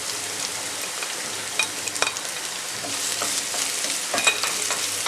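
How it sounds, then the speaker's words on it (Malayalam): Crushed ginger fries in hot oil in a pan for a pork curry, a steady close sizzle with scattered crackles and the scrape of stirring throughout, no voices. "ഇത് രണ്ടും നന്നായിട്ടൊന്ന് മൂപ്പിച്ചെടുക്കണം"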